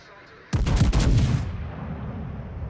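A warship video game's naval guns fire a loud salvo that bursts out suddenly after a quiet moment, then rolls on in a deep rumbling tail.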